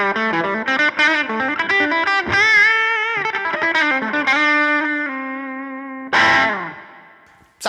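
Overdriven electric guitar through a J Rockett Archer overdrive pedal plays a melodic run of sustained, gritty notes with chorus-like shimmer, ending on a bright strummed chord that rings out.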